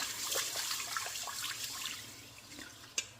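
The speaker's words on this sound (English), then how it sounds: "And I drain it through my hand, trying to catch anything that might fall out." Rinse water drains from rice in a kitchen, a soft steady trickle and splash poured through a hand, faint and close, ending with a small drip, with no talk.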